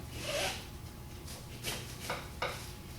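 A wheelchair seatbelt is snugged tight, giving a few brief, quiet rasping pulls of webbing sliding through a buckle in an otherwise hushed room.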